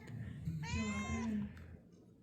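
A house cat gives a single drawn-out meow close by in a quiet room, lasting about a second amid faint background noise.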